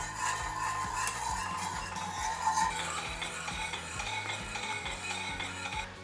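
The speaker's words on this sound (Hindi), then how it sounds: "और हम ऐड कर रहे हैं 1 चम्मच घी, और इसको अच्छे से मिक्स कर लें।" A spoon stirs milk with a spoonful of ghee in a pan, a continuous close swirling and scraping with light metallic clinks against the pan, alone without speech.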